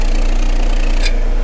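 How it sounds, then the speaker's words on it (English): An old diesel engine runs on used engine oil during an emissions test, giving a loud, steady low-pitched idle with a rhythmic knock and a brief hiss near the end. "running a diesel engine, an old diesel engine, on used engine oil, it will still pass an MOT"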